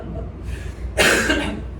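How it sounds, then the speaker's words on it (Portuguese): A man with a persistent cough gives one short, harsh cough up close, standing out briefly from low background noise. "eu estou com essa tosse constante"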